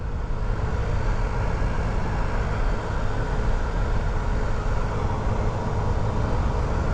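Honda Ruckus scooter engine droning steadily at full throttle, a loud, continuous broadband roar with wind rush and no breaks, running poorly and topping out at only about 28 mph.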